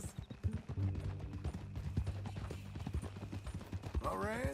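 Horse hooves clip-clop steadily at a walk in Red Dead Redemption 2, close and rhythmic under ongoing conversation, with a brief whinny-like rise near the end.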